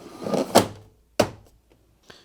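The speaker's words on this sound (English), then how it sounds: "refit the water container" A Hoover tumble dryer's plastic water container knocks into place with a firm thunk, after some brief shuffling and handling, followed by a faint tap.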